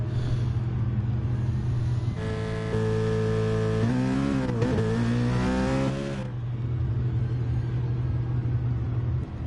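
Race car engines in a racing video game at Catalunya, including a Citroen GT by Citroen N500: a steady loud engine drone with a rising then falling high rev from about two to six seconds, no talk.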